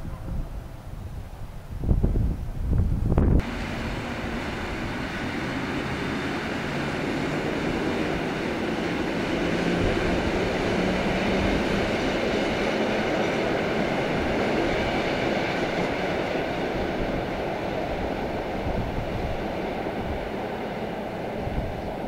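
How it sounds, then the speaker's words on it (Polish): A Newag Dragon locomotive pulls out hauling a freight train of tank wagons, a sustained loud rumble and rolling clatter with wind buffeting the microphone, preceded by a few sharp knocks at the start. "A tutaj na bocznym torze oczekuje na zielone światło Dragon ze składem cystern. Jeżeli nie będzie tu za długo stał, to postaramy się nagrać odjazd."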